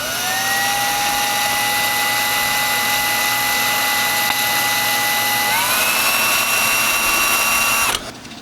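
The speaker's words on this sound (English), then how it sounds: "I'm just going to drill one corner here" A power drill whirs steadily for about eight seconds, its pitch stepping up partway through, then cuts off abruptly.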